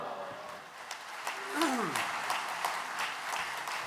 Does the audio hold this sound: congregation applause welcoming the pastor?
yes